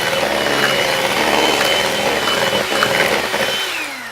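An electric mixer whirs steadily through cake batter in a home kitchen, a loud continuous motor drone that holds level throughout before easing off at the end.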